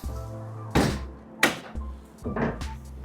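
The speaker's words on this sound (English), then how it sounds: "So we can open up the rear doors" Rear doors of a 2025 Nissan Interstar Tekna van are opened, giving a few close metallic thunks and latch clunks spaced about a second apart, with no talking.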